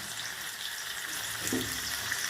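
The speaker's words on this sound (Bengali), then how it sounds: "একদম কম আঁচে করে উল্টে পাল্টে করে ভালো করে ভেজে নিতে হবে" Pointed gourd frying on a low flame, a soft, even sizzle with a faint bubbling crackle, close but quiet and unbroken.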